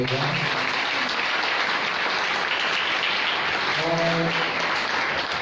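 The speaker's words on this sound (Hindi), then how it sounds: "मेरे प्रभु यीशु के लिए एक जोरदार ताली होगा" A church congregation at a Sunday fellowship service breaks into loud, continuous applause, a dense even wash of many clapping hands throughout, with faint voices briefly audible under it.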